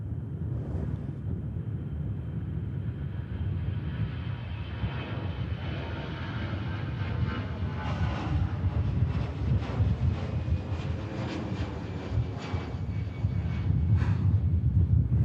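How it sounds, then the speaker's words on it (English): EasyJet Airbus A320 with sharklets taking off from Manchester Airport, a steady roaring jet engine rumble heard from a distance that gradually swells louder toward the end, with a gusty wind on the microphone. "Another EasyJet about to take off to the beautiful destination of Venice."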